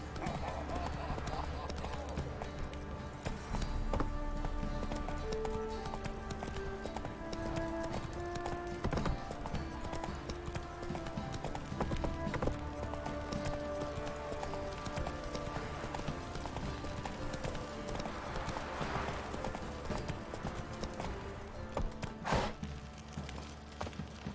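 Roach the horse gallops in The Witcher 3, a steady, continuous clip-clop of hooves running the whole way with game music and ambience underneath.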